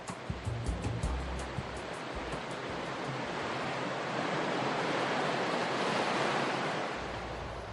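Atlantic sea waves break and wash continuously at San Sebastián on the Basque coast, with gusting wind, a broad steady roar that swells louder toward the end with no voices.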